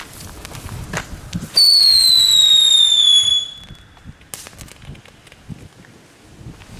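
A Dutch Flitspaal firework fires outdoors with a loud, sustained shrieking whistle and crackling that runs about two seconds and then cuts off, set among scattered sharp bangs from other fireworks in the distance.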